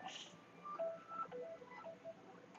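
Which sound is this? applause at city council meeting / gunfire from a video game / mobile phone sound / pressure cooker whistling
mobile phone sound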